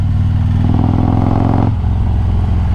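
A 2020 Harley-Davidson Road Glide Special fitted with a 128-inch big bore kit pulls hard under acceleration, its deep, loud V-twin drone rising steadily, then dropping in pitch with a shift partway through.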